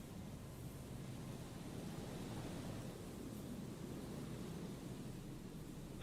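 Steady, faint white-noise hiss fills a phone line in Disco Elysium, a smooth even wash that runs unchanged for the whole stretch with no voices or other sounds above it.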